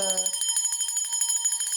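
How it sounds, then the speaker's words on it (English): A bell rung during a spiritual ritual gives a rapid, continuous run of bright, shimmering strikes, close and clear, with a brief low murmur at the very start. "I'm ringing the bell like I usually do to scatter any dark forces"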